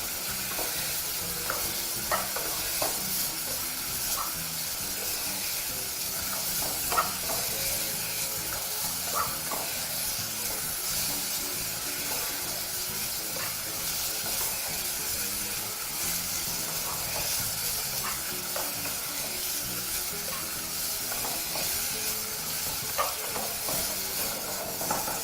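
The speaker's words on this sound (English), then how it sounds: "it's very important that you continue stirring your meat while it's browning" Pork browning in a pot sizzles with a steady frying hiss while a utensil stirs it, with scraping and knocking clicks scattered through a long, even stretch and no one speaking.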